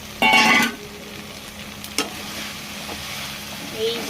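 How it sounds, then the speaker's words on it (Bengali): Baby corn gravy is stirred in a pan: a brief loud scraping burst at the start, then a quieter sizzle with a couple of sharp spoon knocks and soft movement, no speech. "এখন ভালো করে এটাকে গ্রেভিটাকে মিক্স করা হচ্ছে।"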